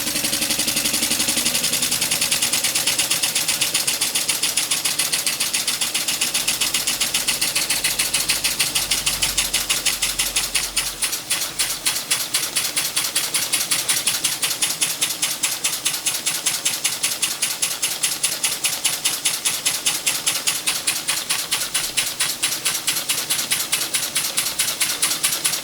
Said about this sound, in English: a rather lovely twin-cylinder oscillating engine, now running properly the way it was designed to run.